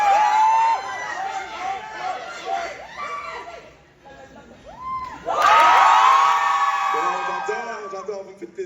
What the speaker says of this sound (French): Arrêtez de crier comme ça,